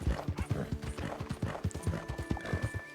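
Horse hooves walking in Red Dead Redemption 2, a steady rhythmic clip-clop of close footfalls on the ground, evenly paced and continuous, with no talk.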